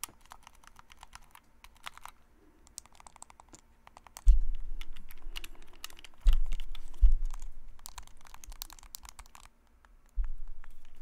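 Joy-Con controllers snapping onto the rails of a Nintendo Switch OLED console during an unboxing, giving several sharp clicks with soft plastic rustling between them, close and fairly loud, no talking.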